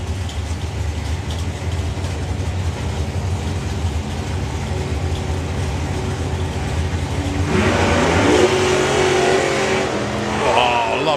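FX Chevy Vega drag racing a no-hair Camaro at a European drag strip: a continuous heavy engine roar that builds and swells louder partway through as the cars launch down the track, with no talk heard.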